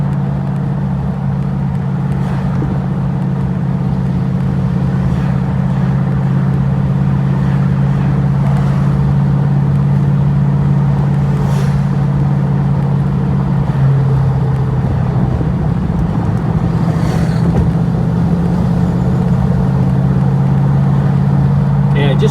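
A TVR Chimaera engine cruising steadily on the road, heard from inside the car as a loud, constant low drone with a faint shift in pitch partway through and only slight variation.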